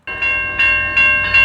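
A train rolls through the Berkley grade crossing on the South Coast Rail line at night, giving a steady, close, loud hum with sustained tonal horn-like lines and faint recurring swells.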